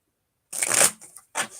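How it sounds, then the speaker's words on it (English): Playing cards riffle-shuffled close by: a dense ripping burst of about half a second, then a short quieter riffle and a brief final burst, with no talking. "that was a good shuffle"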